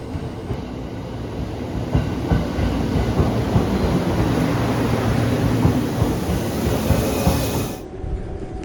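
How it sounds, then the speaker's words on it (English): A night train in Japan rumbles past close by, its loud, steady roar and rail clatter filling the whole stretch before dropping away abruptly at the end. "I am determined to ride the last night train still operating in Japan."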